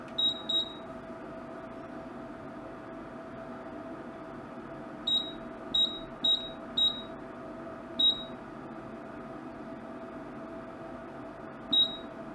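A McHale 868 square bale wrapper control unit on a bench power supply gives short, high electronic beeps on button presses, a pair at first, then a quick run of four, and two more spaced out, over a steady low hum.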